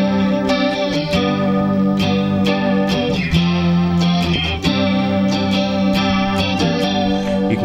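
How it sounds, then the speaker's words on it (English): Electric guitar played through a ModTone MT-CH Aqua Chorus pedal, its chorus effect thickening and widening the tone with a gentle shimmer. Repeated strummed chords ring loud and close, with no talking. "it's got that cool chorusy effect to it. It just kind of thickens and widens your tone."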